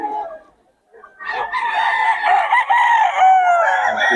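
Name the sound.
sweater gamecock rooster crowing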